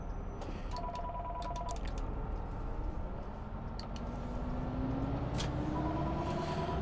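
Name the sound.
telephone ringing in bus simulator video game OMSI 2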